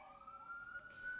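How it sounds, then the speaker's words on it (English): A police siren sounds outside as a steady, faint wail that rises slowly in pitch over a quiet background, heard only briefly. "Sorry for the siren."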